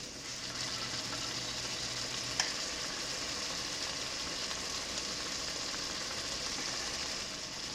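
Homemade tomato sauce made from garden tomatoes with oven-roasted garlic simmers in a pot, giving a soft continuous sizzle and bubbling hiss at low, steady level.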